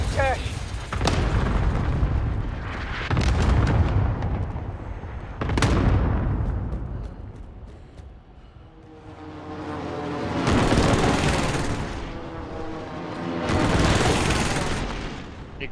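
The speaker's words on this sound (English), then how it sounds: "Enemy cluster strike." Enemy cluster strike in a video game, a string of heavy booming explosions and rolling blasts rising and fading over about fifteen seconds, loud and close, with players talking over them.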